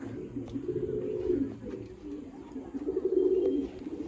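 Low, rolling coos from several nearby pigeons at a pigeon show and sale run steadily, swelling and fading in soft waves with no voices.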